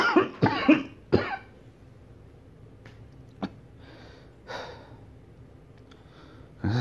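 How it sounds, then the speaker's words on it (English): Several harsh coughs from a sick person, a close burst of three or four near the start, then a few fainter coughs and throat sounds spread out through the quiet, with one more cough at the end. "I've got a terrible cough and I'm sick."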